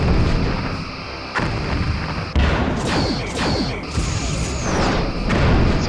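Torpedo fire from a starship's rear tubes in the space combat game Star Trek Bridge Commander: a series of heavy, booming launches and crashing impacts, with sweeping whooshes over a steady, dense roar of combat noise.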